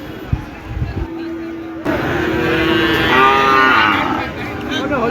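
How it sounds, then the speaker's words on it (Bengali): Shahiwal heifer cattle at the Omarpur cow market, with a short low moo-like call over steady crowd murmur and nearby voices talking. "সুন্দর একটা গরু দেখতে পাচ্ছি"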